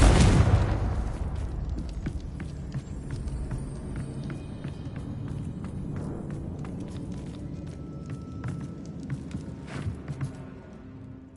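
Magical Bombarda and Confringo blast spells go off in a video game: a loud booming explosion at the start, then a long rumbling decay scattered with crackling pops and debris bursts, no talking.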